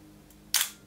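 A Wirgin Edixa Reflex-C single-lens reflex film camera fires its shutter in bulb mode, giving one sharp, close mechanical clack that fades quickly in a quiet room.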